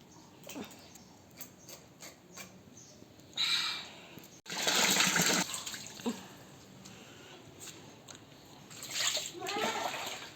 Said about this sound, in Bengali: মাছটা আজ কাটা ধোয়া কমপ্লিট।